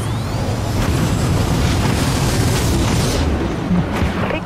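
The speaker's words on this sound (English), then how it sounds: "Launching vulture missiles." Vulture missiles launch from a ship in the Dreadnought video game, a loud, dense barrage of booming whooshes and pops over a constant low rumble, with a few sharper bursts toward the end.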